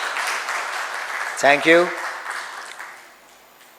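Audience applause at a maritime trainers' guild foundation day celebration, a broad wash of clapping spread across the clip and fading toward the end, with a brief spoken thanks cutting in partway through.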